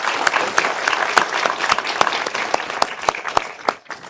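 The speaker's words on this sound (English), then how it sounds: "Let's give them a round of applause." An audience at a graduation ceremony applauds loudly, with a mass of clapping and a few sharp, distinct claps standing out, tapering off at the end.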